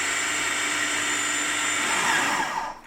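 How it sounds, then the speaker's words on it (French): Kitchen blender whirring at high speed as it purees purslane pesto with salt, a steady loud hiss and whine that shifts slightly then cuts off near the end. "On va commencer à mixer"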